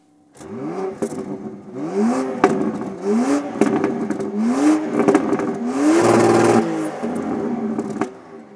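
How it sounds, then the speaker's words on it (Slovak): A 2025 BMW X3 M50 xDrive (G45) with four real exhaust tips and no soft limiter revs loudly through repeated rising pulls, each climb ending in a sharp crackle before the next, close and without talk. "ostroladená verzia M50 dostala 4 reálne koncovky výfuku a na dnešné pomery prekvapivo dobrý zvuk bez soft limitera"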